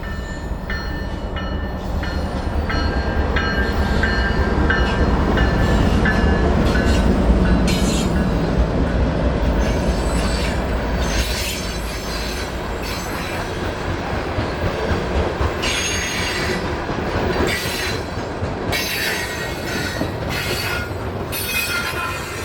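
A loaded coal train on the Port Road branch along the Susquehanna River rolls steadily past nearby, wheels clattering and squealing on the rails in a continuous loud rumble with no voices.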